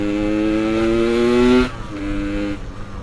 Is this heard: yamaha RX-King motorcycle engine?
yes